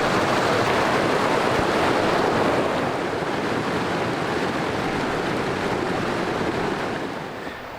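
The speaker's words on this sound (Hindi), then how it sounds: "आगे आगे यहाँ पर अब एक ये नाला आ गया।" Mountain stream rushing continuously on a trek to Kutwal Lake in Heramosh Valley, Gilgit-Baltistan, a loud steady broadband wash of water that fades slightly at the end.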